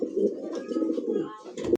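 A pair of Toggi pigeons coo close by in low, rolling throaty phrases, a soft continuous burble with a short pause near the end.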